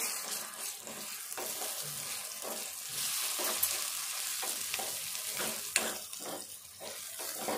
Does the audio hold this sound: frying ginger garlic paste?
yes